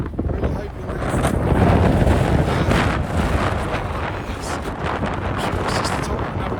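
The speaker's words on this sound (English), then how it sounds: "Okay, it's really windy." Strong wind gusts roar steadily across an exposed knife-edge mountain ridge on Crib Goch in Snowdonia, with loud, continuous buffeting close to the microphone throughout.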